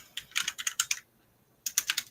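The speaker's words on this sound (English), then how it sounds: "I know y'all hear my loud ass keyboard." Rapid typing on a loud computer keyboard, close and crisp, in two bursts of sharp clacking keystrokes separated by a brief pause of quiet.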